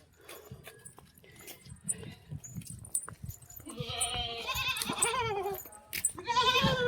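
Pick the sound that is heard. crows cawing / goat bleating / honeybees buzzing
goat bleating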